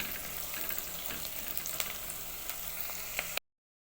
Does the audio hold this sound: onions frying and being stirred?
yes